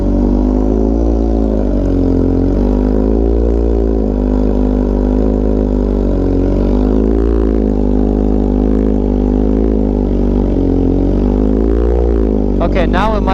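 A Honda Fireblade RRR SP motorcycle with a fault idles and revs indoors, a loud, close engine drone with a low, steady throb that rises and falls in gentle waves.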